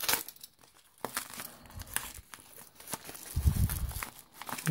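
Plastic packaging crinkles and tears nearby as it is unwrapped, in irregular bursts of rustling that grow denser and louder toward the end.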